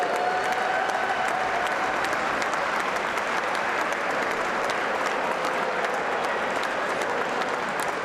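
A crowd at a military inter-services boxing championship applauds the boxers steadily, a dense, sustained clapping that fills the arena without pause.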